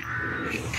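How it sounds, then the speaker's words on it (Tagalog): A harsh, sustained crow caw rings out loud and close outdoors in the Philippines, part of a noisy agitated flock, with a low background rumble beneath it. "Tingnan mo dyan. Ang ingay ng uwak."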